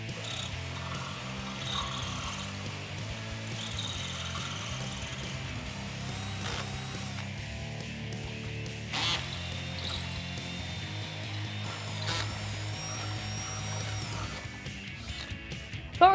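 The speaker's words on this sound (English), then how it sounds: "we can go ahead and drill that out" A power drill with a 1/2-inch bit whirs steadily, grinding through a metal Jeep Wrangler JL sway bar with a continuous droning hum that holds for most of the stretch, ending in a brief sharp clatter.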